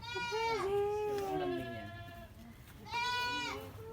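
Goats on a farm let out two loud wavering bleats, one long and one shorter after a pause, with a person speaking briefly nearby.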